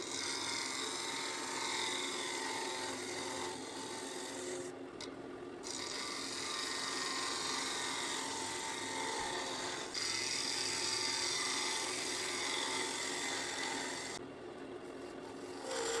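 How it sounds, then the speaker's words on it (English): A round nose scraper cuts the inside of an ash bowl spinning on a lathe, producing a steady, close, raspy scraping hiss with a few brief breaks as the tool lifts off. "me use my round nose scraper, and just on the side there I can get a nice shaving also"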